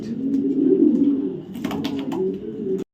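A female racing pigeon coos up close, giving a soft, throaty rolling coo that swells and fades over a few seconds, with a few light clicks and rustles near the end.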